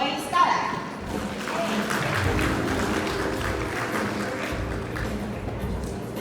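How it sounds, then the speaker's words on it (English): An audience at an entrepreneurs and freelancers forum claps in a warm round of applause for a speaker, a sustained wash of many hands from a roomful of people, with voices mixed in. "let's give a warm round of applause to Ms. Joyce Talag"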